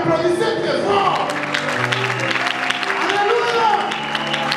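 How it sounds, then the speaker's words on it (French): Church congregation applauding at a pastor's call, steady loud clapping throughout with crowd voices and some talk mixed in, sustained across the whole span. "Applaudissez très fort."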